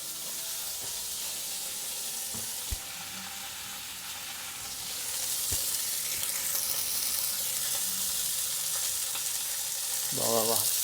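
Beef sears in a hot pan for a shredded kebab-style dish, a soft continuous sizzle with occasional clicks and taps of a utensil, growing slightly louder toward the end.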